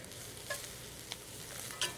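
Mushrooms sautéing in olive oil in a hot cast iron pan, a soft continuous sizzle with a few faint stirring clicks, close but quiet and without talk.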